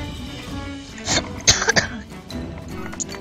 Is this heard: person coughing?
yes